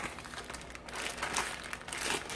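A plastic freezer bag holding food is zipped shut by hand, producing close, crinkly rustling and sealing noises in short uneven bursts, with no one talking.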